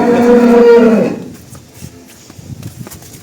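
A single loud, close cow moo from a young heifer lasting about a second, followed by quiet shuffling and faint movement.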